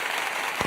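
Brief, dense audience applause during a podcast, a steady wash of clapping filling the short moment at moderate loudness.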